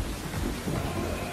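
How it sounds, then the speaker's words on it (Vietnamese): Heavy rain pours in a dense, steady hiss with a low rumble beneath, continuous and fairly loud over a brief stretch, no voices. "Mưa lớn quá."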